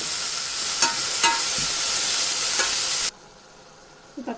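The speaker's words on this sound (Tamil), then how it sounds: "தேவையான அளவு உப்பு சேர்த்து வதக்கிக்கோங்க." Tomatoes with turmeric powder and salt sautéing in a pan for horse gram sambar, a steady close sizzle with a few stirring scrapes, then the frying cuts out abruptly near the end.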